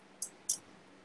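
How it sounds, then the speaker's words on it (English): Two quick, light metallic clicks a fraction of a second apart as a bottle opener is handled during a poker game, close and faint against a quiet background. "Bottle opener."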